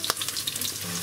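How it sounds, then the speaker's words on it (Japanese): Crushed garlic sizzling in olive oil in a pan, a short close crackle of frying with faint pops and no talk. "ニンニク入れてちょっとオリーブオイルに香りを移していきます。"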